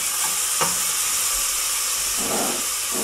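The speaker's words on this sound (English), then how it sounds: "when this onions gets fried, put it on a skim and let them get fried" Onions fry in a pan for paya soup, giving a loud, steady sizzle and hiss with a few soft stirring clatters.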